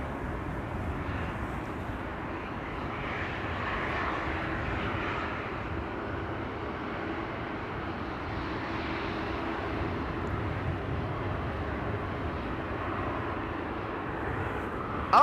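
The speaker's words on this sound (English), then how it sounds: "another whining airplane, an E2 to Bologna" Whining airplane engine at Amsterdam Schiphol Airport, an Embraer E2 jet, heard as a steady, loud broadband roar with a sustained whine that holds evenly throughout, without voices.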